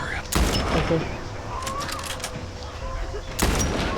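Gunfire from The Last of Us Part I: a couple of loud, sharp shot bursts, one near the start and one near the end, with game ambience between.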